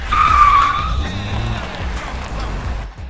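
A BMW and a 2004 Scion xB launch into an illegal street race: loud, close tire squeal and skidding over roaring engines that fade into a steady rumble.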